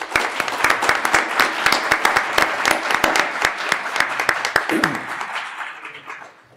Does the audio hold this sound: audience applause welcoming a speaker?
yes